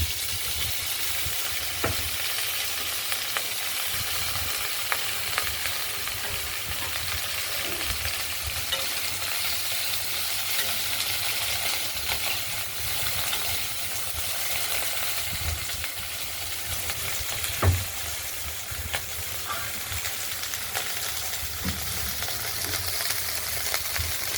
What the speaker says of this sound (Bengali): আলুটাকে আমরা ভেজে নিচ্ছি আগেই, এবার ঢ্যাঁড়সগুলো দিয়ে দেবো